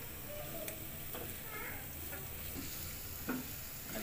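Pickle masala frying in a pan for a potato curry, a faint, steady sizzle with light stirring scrapes and a soft knock near the end, fairly quiet and with no talk.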